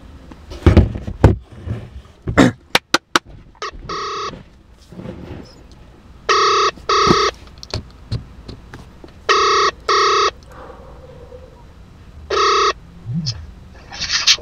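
A prank call to a Namibian celebrity begins with loud clicks and dial tones, followed by a ringback tone pulsing in paired bursts with quiet gaps, repeating several times while the line waits for an answer.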